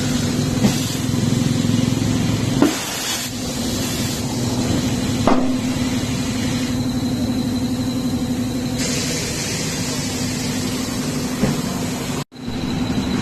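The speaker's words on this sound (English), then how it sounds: "I mean with the tire fitting, and we're going to again hear that loud sound." Tyre fitting at a tyre shop, mounting Hankook Kinergy EX 175/65R14 tyres on a Ford Figo Aspire. A loud, steady mechanical whine and drone runs throughout, broken by a few hard metallic knocks and a brief cut near the end.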